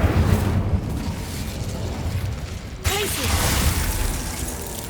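Incendio fire spell cast in the Hogwarts Legacy video game: a loud broadband whoosh and burst at about three seconds over dense rumbling combat noise, with a brief squealing tone as it flares.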